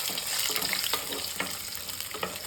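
Onions sizzling in coconut oil for a Tirunelveli sodhi kulambu, a steady dense frying hiss with small pops and crackles, close and continuous.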